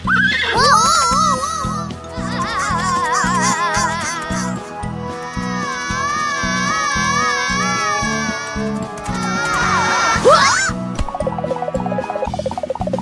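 Horse neighing and whinnying in a children's English-learning cartoon, several high wavering calls rising and falling over a steady rhythmic music backing, loud and close.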